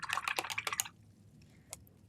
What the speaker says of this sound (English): rinsing out that small brush in the water.